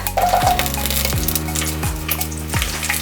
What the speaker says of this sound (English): After adding our red chilies, I am going to add my garlic.